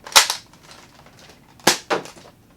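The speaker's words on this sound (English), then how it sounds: "I guess we can fire it off with a few darts here" Thrifted Nerf blaster firing foam darts: two sharp, close snapping shots spaced over a second apart, each followed by a quick secondary click.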